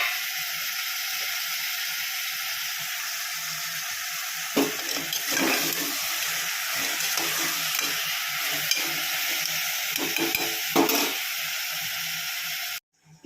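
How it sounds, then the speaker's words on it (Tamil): Onions sauté in a pan for chicken curry, giving a steady close sizzle with intermittent scraping and clattering of a stirring spoon, ending abruptly. "கொஞ்சம் வதங்கட்டும்."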